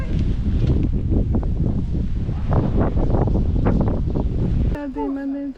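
Loud, gusting wind buffets the microphone on an open hilltop on Bozcaada island, a steady roar with surges throughout, easing near the end as a faint tonal sound briefly emerges.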